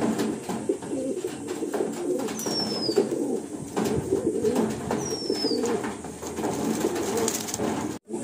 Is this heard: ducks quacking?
no